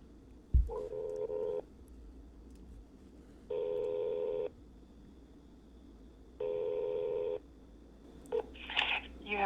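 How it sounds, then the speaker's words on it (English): Telephone keypad tones dial out to a police department: three sustained dual-tone bursts spaced a few seconds apart, clear and steady, with a brief click at the start and faint rustling near the end. "So let's go ahead and give them a call."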